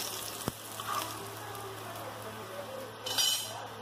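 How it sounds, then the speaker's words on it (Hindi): Chopped onions fry in hot oil in a kadhai, giving a steady close sizzle with a soft clink of a utensil near the start and a brief louder burst of frying toward the end. "और जो मैंने यहाँ पे प्याज काट के रखा है वो डाल दिया है फ्राई करने के लिए।"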